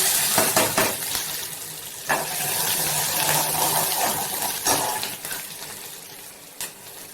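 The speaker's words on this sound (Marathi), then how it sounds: "तेल गरम झालं की लगेच कांदा टाकून घेते आता कांदा सोडू" Chopped onion dropped into hot oil in a pan, a burst of loud sizzling and spattering followed by steady frying hiss with occasional stirring knocks against the pan.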